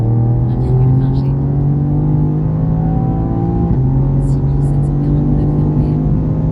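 A race car engine on a track at Mireval drones loudly and continuously, its pitch rising steadily as it revs, then dipping and climbing again, with a smooth sustained whine close to the listener.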